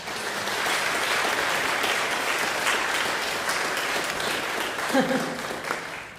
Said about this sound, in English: let's give them a round of applause for them